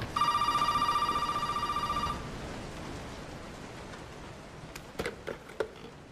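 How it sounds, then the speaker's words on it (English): Telephone ringing in a Resident Evil video game, a rapid electronic trill repeating for about two seconds, then stopping, followed by faint background and a few sharp clicks. "Oh, someone's calling."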